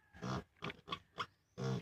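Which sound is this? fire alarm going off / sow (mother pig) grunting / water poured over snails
sow (mother pig) grunting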